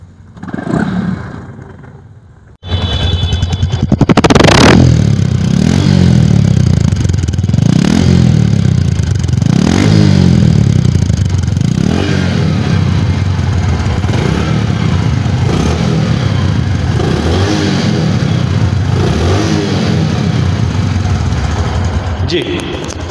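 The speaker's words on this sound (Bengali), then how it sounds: "বাইকটা আমি স্টার্ট দিয়ে দেখালাম, তো সাউন্ডটা একদম নতুন" A 2024-25 Bajaj Platina motorcycle with about 8,000 km on it starts up after a brief voice, then idles and revs in repeated surging swells, loud and close throughout.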